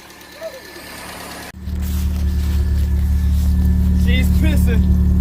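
A car prepared for the Gambler 500 starts up and runs with a steady, loud, close engine rumble after a brief quieter stretch, with a voice calling out over it.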